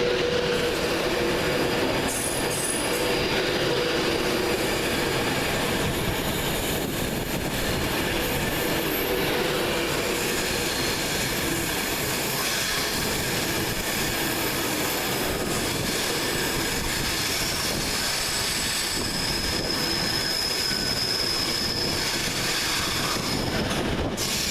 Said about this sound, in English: Now leaving will be 390-104, the Alston Pendolino